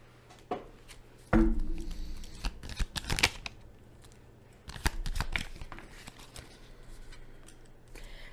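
Tarot cards are handled and shuffled close by in quick papery flurries, with riffles and snaps coming in short bursts separated by quieter pauses, no talk.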